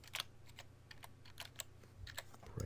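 Computer keyboard typing a short segment name in 3D tree-modeling software, a quick burst of faint, close key clicks spread over a few seconds, no talk.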